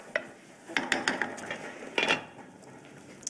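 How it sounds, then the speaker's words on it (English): A spoon clinks and scrapes around a pot of meatball sauce, a quick stir of several metallic taps in irregular rhythm, close and alone without speech. "my sauce is going crazy over here. I'm gonna give it a quick stir."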